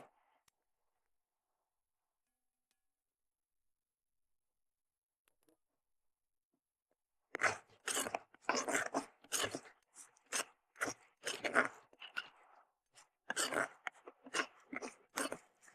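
Dried red chillies crackling and popping in a hot pan on a stove. Near silence gives way to a close, irregular run of sharp crackles and snaps that keeps going to the end.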